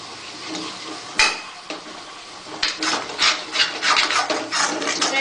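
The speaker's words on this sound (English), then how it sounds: "This will take around 5 minutes to roast." Aloo halwa mixture being roasted in a non-stick pan, with a spoon scraping and stirring in repeated rasping strokes and a soft sizzle, close and steady with no talk.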